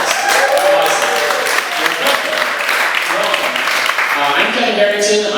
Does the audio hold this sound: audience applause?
yes